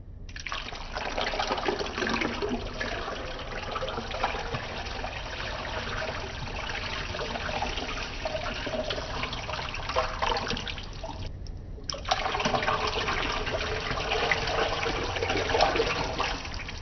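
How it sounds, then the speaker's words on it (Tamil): Rice-washing water pours steadily into a pot of goat leg soup, a continuous splashing stream with a brief pause before the pouring resumes. "இந்த தண்ணியை தான் இதில் சேர்த்துக்கணும்."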